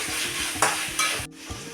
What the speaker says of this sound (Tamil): தக்காளி அப்படியே வதங்கிக்கிட்டே இருக்கட்டும்.